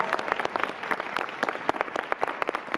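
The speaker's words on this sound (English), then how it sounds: "Let's give Dr. Millette a round of applause" An audience claps for a keynote speaker at a talk on Black theater, brisk uneven clapping from a modest crowd, close and continuous throughout.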